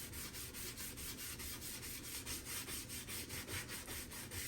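A fine brush with dish soap scrubs tile grout in quick, even back-and-forth strokes, a steady rhythmic rubbing that is close and fairly quiet with no talking.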